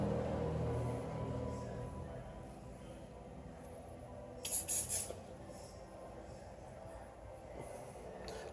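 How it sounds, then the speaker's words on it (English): Silicone spray gives a quick hissing burst onto the rear brake caliper parts of a Subaru Outback, Legacy or WRX, sputtering in a few short pulses for under a second against a quiet, low background hum. "Little silicone spray."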